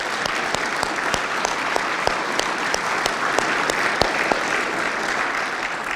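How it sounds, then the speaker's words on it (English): An audience at a Veterans Hall of Fame nominee recognition ceremony gives a loud, sustained round of applause, dense clapping with a few sharp individual claps standing out, no talking over it. "Can you give them another round of applause?"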